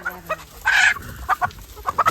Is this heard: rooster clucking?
yes